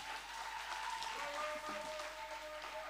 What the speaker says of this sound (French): Applaudissez Imani.